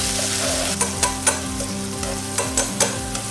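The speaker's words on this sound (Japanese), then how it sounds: "この赤みがなくなるまではしっかり炒めましょう" Pork and potatoes stir-fry in hot oil in a pan, a dense continuous sizzle close up with repeated scraping and tossing stirs about every half second, no voices.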